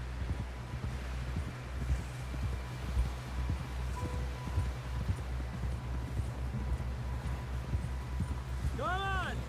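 Horse hooves gallop in Red Dead Redemption 2, a quick, regular clip-clop beating steadily under a faint wash of wind and rustling, moderately distant and soft throughout.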